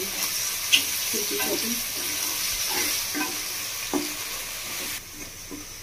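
Vegetables for fried rice, seasoned with salt and black pepper, sizzle in a pan under a continuous hiss, with soft scattered clinks and scrapes of a spoon stirring through them.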